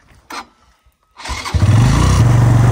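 A motorcycle with a punctured tyre gives a short click, then its engine starts up and settles into a loud, steady idle with a low, even throb.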